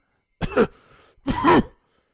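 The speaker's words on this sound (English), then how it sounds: "That wasn't a normal coughing sound." Two harsh, throaty coughs heard over a phone line in the Higurashi When They Cry visual novel, about a second apart, close and abrupt with silence between.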